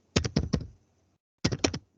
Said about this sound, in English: just go to the Google and type like this